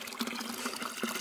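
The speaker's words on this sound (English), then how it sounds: "the water goes from that, which is from an underground spring, into here, and then trickles down into this one" Natural mountain spring water from an underground source trickles steadily into a pool nearby, a soft continuous wash with faint splashing accents throughout.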